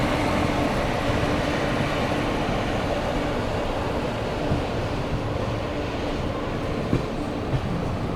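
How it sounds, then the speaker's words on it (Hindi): Gitanjali Superfast Express pulling out of Akola Junction, a steady loud rumble and rush of wheels on rails heard from on board, continuous with faint clanks and no voices. "चलिए फिलहाल तो अकोला जंक्शन से निकल चुकी है अपनी ट्रेन"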